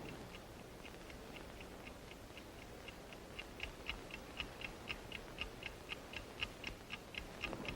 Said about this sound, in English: You hear that ticking? You hear it? That is the signal that the precious metal is near.